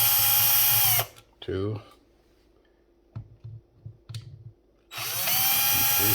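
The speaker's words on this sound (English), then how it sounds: "So we'll take the screws out of here. These are switch plate screws." A power drill backs switch plate screws out of a wall switch, with short loud whirring bursts at the start and end and brief clicks and a voice counting in between.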